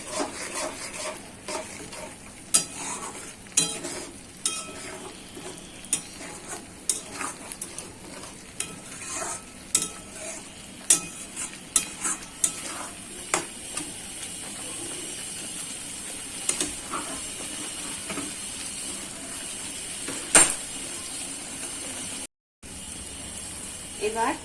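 Spice paste sautés with a splash of water in a pan for potol korma, giving a soft ongoing sizzle broken by sharp clicks and scrapes of a utensil against the pan, fairly close.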